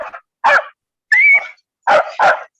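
A dog barks in a run of yips and woofs, a short burst, a longer whining bark, then two quick barks, fairly close and clear with no talk over it.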